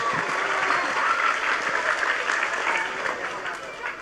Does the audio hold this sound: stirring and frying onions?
no